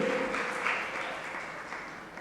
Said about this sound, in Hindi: ये ताली क्यों बजी?